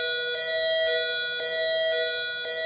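A malfunctioning milking-time alarm sounding as a steady electronic tone that pulses in repeating cycles of about half a second, clear and alone.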